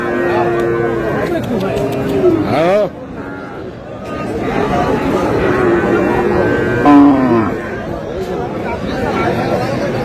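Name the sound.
cattle mooing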